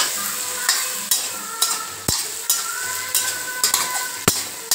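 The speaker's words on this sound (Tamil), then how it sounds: "2 நிமிஷம் வதக்குனா போதுங்க" Eggplant, drumstick and raw mango pieces with salt, turmeric and chili powder sizzle in a pan for sambar, with a spoon scraping and stirring in regular strokes over the steady frying hiss, close up and without talk.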